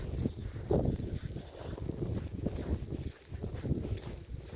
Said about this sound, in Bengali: অনেকটা কি পরিমাণ জোরে বাতাস আসতেছে।